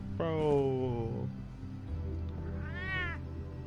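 A cat gives two drawn-out meows close by, a long falling one first and a shorter rising one after a pause, over a steady background hum.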